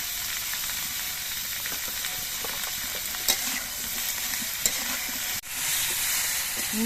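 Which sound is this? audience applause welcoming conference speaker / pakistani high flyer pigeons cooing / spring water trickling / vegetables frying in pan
vegetables frying in pan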